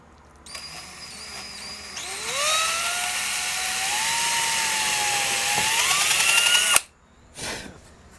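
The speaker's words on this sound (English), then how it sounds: "We're going to drill us in a couple of locator pins in a fret slot off to the side." A power drill bores locator pin holes in a fret slot of an electric guitar fretboard, spinning up with a rising whine into a steady, close, loud drone of several seconds, then stopping, followed by one brief quick burst.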